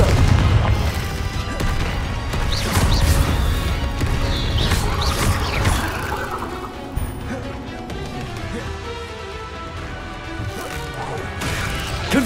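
Confringo explosive spells cast in the Hogwarts Legacy video game during a magical duel, loud repeated crashes and booms over dense, continuous battle noise.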